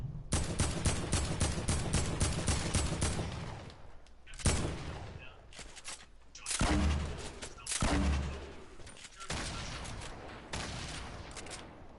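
Fortnite combat with a grenade launcher firing: loud, rapid booms and bursts of gunfire, close and intense, with brief lulls between clusters and a few heavy blasts standing out.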